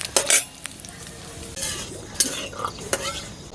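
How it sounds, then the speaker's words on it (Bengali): Bay leaf, dried red chilli and cumin tempering frying in hot oil, with a spice paste then dropped into the pan; sizzling crackle with a few clinks and scrapes, loudest at the start and again when the paste goes in. "ফোড়ন, জিরে টিরে সব পুড়ে গেছে, এখন দিয়ে দিলাম পেস্টটা"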